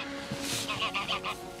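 A goose honks in a short series of four or five rapid, nasal calls out in a field, fairly close and clear over a soft background hum.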